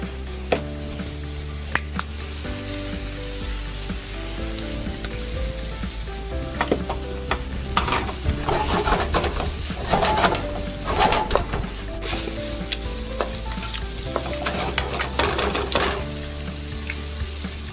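Vegetable fried rice with green sprouts and a pinch of salt sizzles steadily in a hot pan while a utensil scrapes and stirs, with irregular clacks and scrapes growing busier toward the end.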